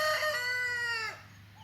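Henry the rooster crows once, close by and loud, with a long sustained call that drops off near the end, as the chickens at the coop stay quiet.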